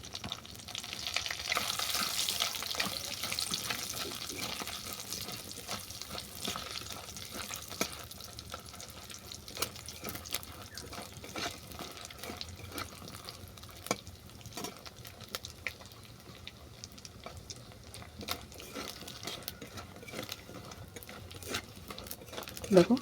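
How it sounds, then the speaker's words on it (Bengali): Lentil dumplings (bori) fry in oil left over from frying a rohu fish head until brown. The sizzle is soft and steady, with occasional stirring clicks, heard close but fairly quiet. "এই তেলেই বড়িটাকে আমি বাদামি করে ভেজে নেব।"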